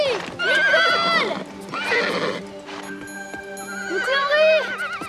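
Repeated loud neighs and whinnies from a black horse come close by in three long bursts, with hoof clops underneath and no talk.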